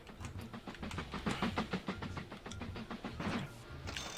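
A train running on rails in the Mashinky railway-building game, with a quiet, rhythmic clickety-clack of wheels over track joints repeating steadily under faint background rumble, with no speech.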